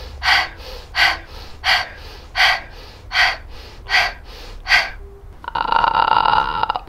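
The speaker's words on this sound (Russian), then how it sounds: "Вдох через нос, выдох через рот. Делаем 8 раз." Strelnikova-style breathing exercise: about eight sharp, rhythmic sniffing inhales through the nose, close and loud, followed by a longer rasping exhale through the mouth.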